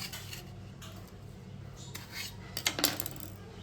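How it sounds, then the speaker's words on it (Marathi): A knife cuts long green chillies into pieces with a few quick crisp snips and clicks on a board near the end, over a low background hum. "अशी आपल्याला मिरची कट करून घ्यायची"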